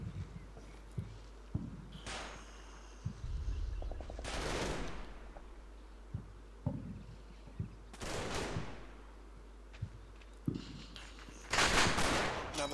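Gunfire in Combat Mission: Battle for Normandy, with scattered single shots and a few louder bursts at irregular intervals, fairly distant and faint against a low background.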